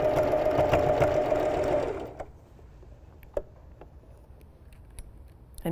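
Sewing machine stitching a seam through several layers of an upcycled flutter sleeve tee, a steady close whir for about two seconds that stops, followed by a few faint clicks.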